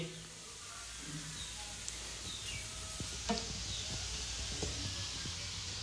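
Thalipeeth flatbread fries on a pan with a soft, steady sizzle and crackle, faint and continuous, with occasional light clicks and small sounds around it.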